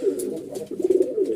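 A pair of Lakkha fancy pigeons coo close by in soft, throaty rolling calls, with a voice speaking over them.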